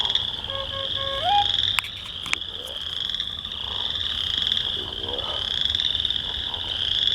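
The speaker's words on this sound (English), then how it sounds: "And we got all these sounds of other frog species in the background." Many frogs of several species call together in a wetland in a dense, continuous chorus, a high trilling drone with a few sharper chirps and clicks layered on top.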